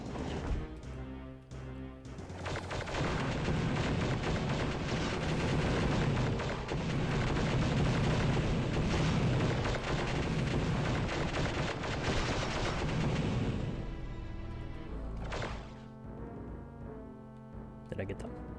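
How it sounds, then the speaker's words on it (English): Heavy, sustained assault cannon fire in the Star Wars: Dark Forces remaster, a loud continuous barrage of booming blasts lasting most of the stretch before tapering off, with game sounds throughout. "Let's use this assault cannon."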